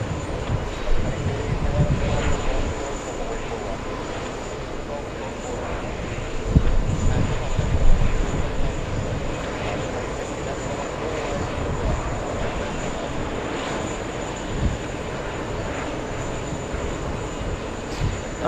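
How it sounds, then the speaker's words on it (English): Boeing 777 jet on arrival at JFK airport from Paris Charles de Gaulle, a steady broadband engine roar at moderate distance with a swell midway, while a person talks over it. "the 777 coming in from, I guess, London? No, from Paris, Charles de Gaulle, flight 45"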